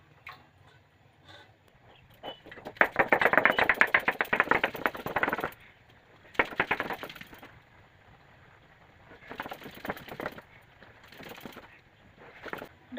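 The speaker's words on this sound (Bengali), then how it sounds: "তার জন্য প্রথমে উচ্ছে, মসুর ডাল ও 4টা মতন কাঁচা লঙ্কা একসাথে বেটে নেব।" Bitter gourd, red lentils and green chilies are ground together by hand, giving rough rhythmic scraping strokes in several bursts of a few seconds each, separated by quiet pauses.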